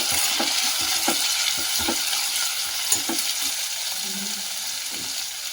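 Onion and tomato frying in a pan for mint rice bath, a constant sizzling hiss with repeated soft stirring scrapes and light knocks close by.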